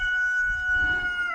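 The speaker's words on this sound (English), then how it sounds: "There's our buddy the rooster." A rooster crows on a property with trees, its call a sustained tonal note lasting about a second over low rumbling background noise.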